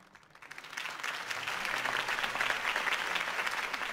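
A crowd in Batman: The Telltale Series breaks into sustained applause, many hands clapping steadily and swelling after a brief start, dense and moderately loud, with no clear speech.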